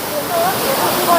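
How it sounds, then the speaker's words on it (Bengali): Waterfall at Daringbadi, Odisha, a steady close wash of falling water hissing evenly, with faint voices carrying over it. "ওপর থেকে ঝর্ণা পড়ছে।"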